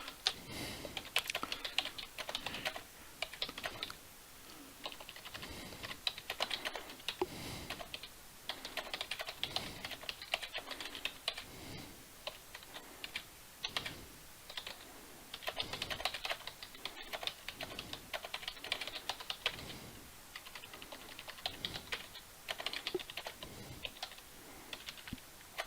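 Someone types a document in Microsoft Word on a computer keyboard, producing a steady stream of quiet, close key clicks with irregular rhythm and occasional short pauses, no voices.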